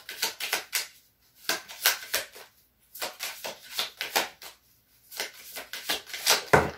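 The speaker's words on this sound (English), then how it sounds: "Gotta shuffle your cards" Tarot cards are shuffled in quick riffling bursts, several rounds of rapid fluttering snaps separated by short pauses, close and crisp.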